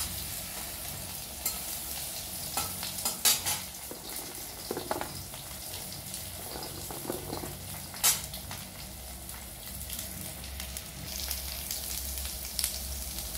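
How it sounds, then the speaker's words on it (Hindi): Sujina fried in leftover oil in a pan, a constant close sizzle with occasional stirring clicks and a few sharper pops, steady throughout with no talking. "देखिए फ्रेंड्स ये फ्राई हो रहा है"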